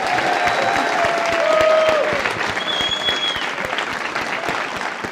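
An audience applauds at the end of an evening performance, a thick sustained round of clapping from a crowd, swelling slightly near the middle and then tapering, with faint voices mixed in.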